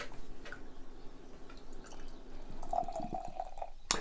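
Weldwerks coffee peanut butter vanilla imperial stout being poured into a glass, a quiet, close gurgling trickle with soft drips, ending in a sharp little clink.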